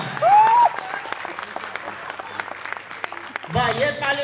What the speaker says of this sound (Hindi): वाह, ये ताली हुई बोटनी की जी, बहुत बहुत धन्यवाद।